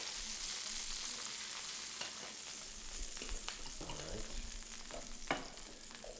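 Steak frying in a pan sizzles steadily while the pan contents are stirred, with occasional scrapes and clinks of a utensil, close and moderately loud.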